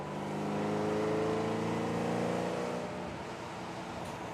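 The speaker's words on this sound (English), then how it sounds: "driving the Lexus at 100 kilometers an hour" A Lexus cruises at 100 km/h in eighth gear at about 1600 rpm, heard from inside the cabin. The engine gives a faint, steady low hum with soft road and wind noise, swelling slightly and then settling.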